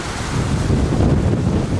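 Strong wind blows at an airport on Madeira, arriving aircraft struggling to land in it. A loud, steady rushing roar buffets the microphone throughout with no pauses.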